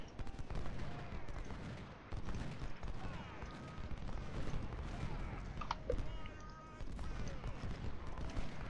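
Massed musket and rifle volleys rattle through a Civil War battle in the strategy game Ultimate General: Civil War, dense overlapping gunfire crackling continuously with brief lulls and a faint voice underneath.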